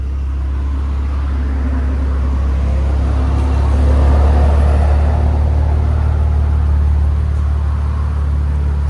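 A 2021 Infiniti Q60 400 Red Sport with an ARK cat-back exhaust gives a steady, deep exhaust rumble close by. It swells slightly midway and carries on with no talking.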